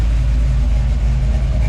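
A 6.0 swapped old truck idles steadily with its cooling fans running, a loud continuous low rumble with a constant fan whoosh layered over it, close up and without talk.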